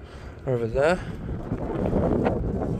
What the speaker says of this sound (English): Still a bit windy, still a bit blowy